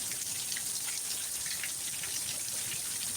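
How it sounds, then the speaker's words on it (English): Steady, dense rain pouring down during a heavy thunderstorm, a constant close wash of patter with no talking. "Oh my God! This rain."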